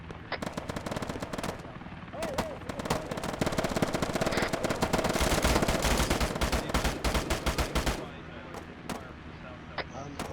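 Automatic and machine-gun fire in Arma 3 during a military simulation town assault, with dense rattling bursts and scattered single shots that are loud and continuous through the middle, while players talk over radio.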